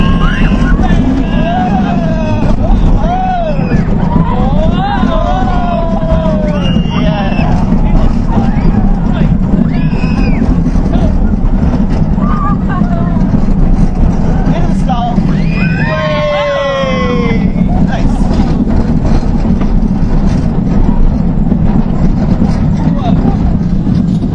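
Impulse roller coaster train at Knoebels amusement park running its course, a steady loud rumble and wind roar throughout with riders shouting and talking over it.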